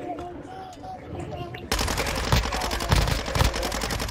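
Automatic gunfire in a Call of Duty DMZ match erupts after a quieter stretch and keeps going as dense, loud bursts of rapid shots with heavier cracks for the rest of the moment, no talk over it.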